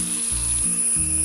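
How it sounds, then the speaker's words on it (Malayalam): Cornflour slurry is poured into a pan of chilli soya sauce, bringing a steady, moderate sizzle with a faint rhythmic scraping under it. "ഇനി ഇതിലേക്ക് നമ്മൾ കലക്കി വെച്ചിരിക്കുന്ന കോൺഫ്ലോറിൻ്റെ സ്ലറി ഒഴിക്കാം."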